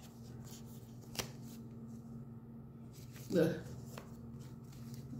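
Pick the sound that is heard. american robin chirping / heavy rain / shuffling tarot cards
shuffling tarot cards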